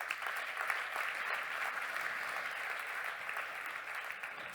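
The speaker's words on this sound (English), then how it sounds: "give my panellists a very warm round of applause" Sustained, even applause from a conference audience for a forum panel on food, migration and climate change, a dense wash of many hands clapping steadily for several seconds with no voices over it.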